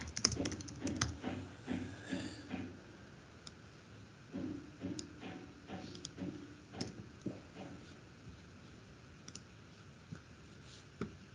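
Typing on a computer keyboard in bursts of quick close key clicks, with pauses between runs and a few lone taps.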